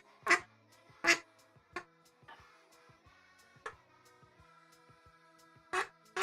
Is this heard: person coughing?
no